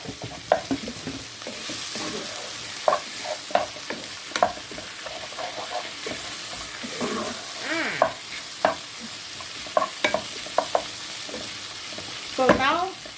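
Fried onion goes into a pot of Oriental stew, with a spoon scraping and clinking against the pot over a soft, steady sizzle, punctuated by sharp knocks, close and fairly quiet.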